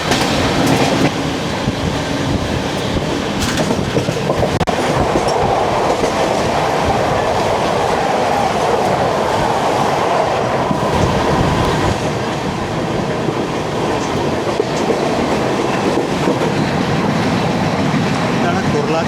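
Inside a 2A coach of the 16332 Express running from Daund to Mumbai CSMT, a loud, constant rumble of wheels and carriage fills the whole stretch, with rattling and soft clatter throughout.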